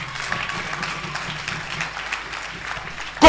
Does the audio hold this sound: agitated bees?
no